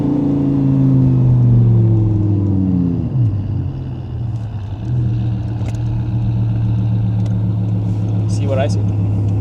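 A gated Audi R8 V10 with a valvetronic exhaust blares loudly and up close, its engine note dropping in pitch, then surging back up into a sustained high-revving roar.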